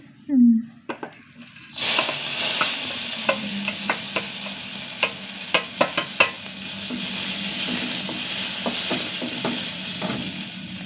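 Dry crackling and scraping of coriander seeds roasting in a dry pan over low heat, with a series of sharp clicks and taps as they are stirred.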